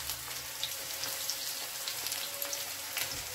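Green chilies and crushed garlic frying in oil in a pan while cooking radish greens and brinjal, giving a steady soft crackling sizzle with scattered pops, close and fairly quiet, with no talking.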